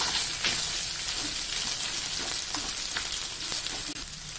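Whole garam masala and bay leaves sizzle loudly in hot oil, a dense, continuous crackling hiss with faint pops throughout, close and alone.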